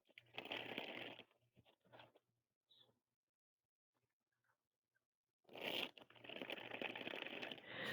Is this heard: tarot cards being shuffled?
yes